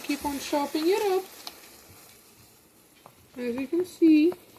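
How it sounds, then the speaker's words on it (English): Scrambled eggs with milk sizzle faintly and steadily in a frying pan beneath a person speaking in short phrases close to the microphone. "our eggs are sizzling now."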